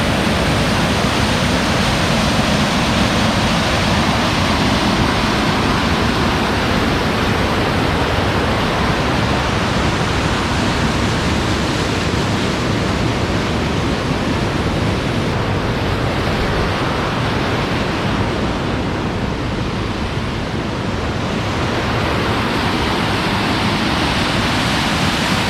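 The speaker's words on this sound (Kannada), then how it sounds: "ನೋಡಿ ಫಾಲ್ಸ್ ನೋಡಿ" A forest waterfall near Puttur roars steadily and loudly, a dense unbroken rush of falling water with no voices.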